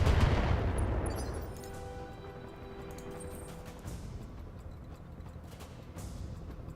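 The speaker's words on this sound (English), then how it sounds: "And Alpha Strike. Firing." Mech weapons fire all at once in a BattleTech video game alpha strike: a heavy booming blast that opens loud, then a long rumbling decay with fainter mechanical tones and scattered distant impacts.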